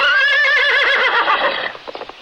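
Loud, close horse whinny from a radio drama Western, one long quavering cry that fades into a few faint hoof clops at the end.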